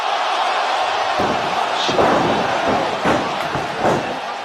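Wrestler slammed onto the ring mat as a powerbomb is countered, heavy thuds and impacts landing over a roaring arena crowd.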